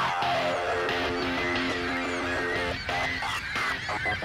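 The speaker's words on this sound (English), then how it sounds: "The majestic sound of the birds." Geese honk repeatedly and loudly around a fishing spot, a flock calling close by in overlapping, insistent bursts that fill the whole stretch.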